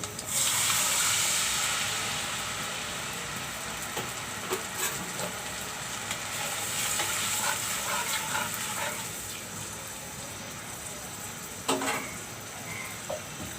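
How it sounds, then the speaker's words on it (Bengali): Spice paste for a lotia fish curry frying in a pan: a steady broad hiss and gush of sizzling throughout, with a few faint clicks and one sharper knock near the end, no talk. "এখন মশলাগুলো একটু কষিয়ে নিব"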